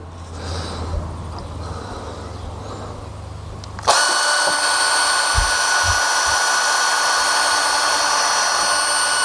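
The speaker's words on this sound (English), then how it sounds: "I've already drilled or pre-drilled a couple of the screw holes there, so I'll just fire that last one in." A power drill drives a screw into a wooden garden fence post for a chicken-wire fence, starting abruptly with a loud, steady whine that runs uninterrupted after quiet outdoor background.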